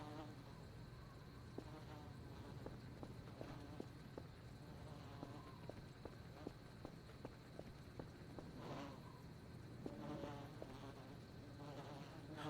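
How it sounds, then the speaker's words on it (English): Wasps from a wasp nest in the video game Voices of the Void make a faint, steady insect buzzing in foggy outdoor surroundings, with scattered soft clicks and ticks over a low background hum. "The wasp nest is still there."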